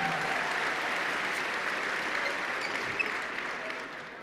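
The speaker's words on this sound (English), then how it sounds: "Give yourselves a round of applause." Broad, sustained applause from a large conference audience at a closing session, a steady wash of clapping that slowly eases.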